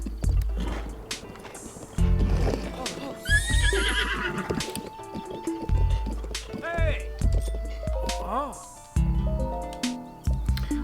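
A horse whinnies several times among clopping hooves and splashy game sound effects in The Legend of Zelda: Breath of the Wild, with a person talking in between.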